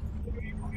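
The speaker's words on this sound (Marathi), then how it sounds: "वळून घे गाडी, इथून वळून घे" A car turns around on a narrow road, its engine a low, steady rumble heard from inside, with faint voices mixed into the drone.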